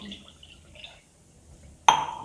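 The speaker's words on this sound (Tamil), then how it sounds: "இப்போ நம்ம தண்ணி கொஞ்சம் ஊற்றிக்கலாம்." A quiet stretch of faint kitchen noise, then a sudden bright splash as a tumbler of water is poured into a Chettinad mutton chukka mixture, fading over the last moments.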